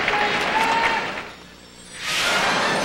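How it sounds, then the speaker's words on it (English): A figure skating arena crowd at the 2000 World Championships, a broad roaring wash that sags briefly mid-way before swelling again, loud and steady, ahead of the Anissina and Peizerat original dance. "the crowd noise, it's already started to build"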